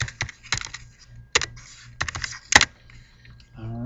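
Fingers tap a computer keyboard at a login screen, giving quick irregular bursts of clicky keystrokes with short pauses between them and a sharper key strike near the end, close and fairly clear against quiet background hum.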